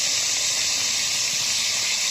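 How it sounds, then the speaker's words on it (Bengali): Pieces of hilsa fish frying in hot oil give a loud, steady, dense hiss and sizzle that stays even and close throughout with no talk. "এখন আমরা মাছগুলো ভেজে নেব।"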